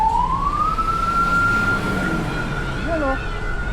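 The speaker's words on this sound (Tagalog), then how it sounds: "Ayun na yung bumbero." Fire truck siren rising into a loud, steady wail that holds through the clip, with faint traffic noise and a brief voice beneath it.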